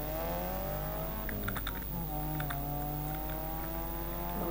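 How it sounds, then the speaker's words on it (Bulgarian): Busy clatter of a noisy computer keyboard being typed on over the steady engine drone and whine of a street racing game, the keystrokes clustered in quick bursts. "Добре, съжалявам, че чувате моята шумна клавиатура."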